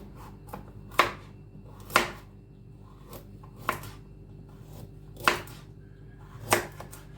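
A knife chops leeks on a cutting board in sharp, separate thuds, about one per second, close and clear over a quiet background.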